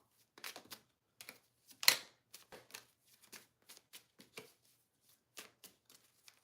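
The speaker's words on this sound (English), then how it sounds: "I just wanted to finish shuffling" Rapid bursts of cards riffling and snapping together in several quick shuffles, close and fairly quiet, with no talking.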